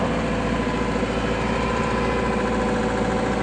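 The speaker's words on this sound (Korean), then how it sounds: "참 엔진 소리가 참 좋습니다," The diesel engine of a Caterpillar M314F wheeled excavator with a three-piece boom runs at a steady idle, a loud, constant, low rumble close up with no voices.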